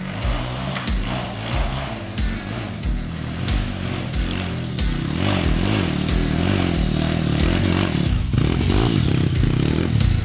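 Trail motorcycle on a dirt track at Tapak Kuda, Kuok, Kampar, engine loud and close, revving hard in pulsing bursts that build into a sustained full-throttle roar with clattering and scraping mixed in.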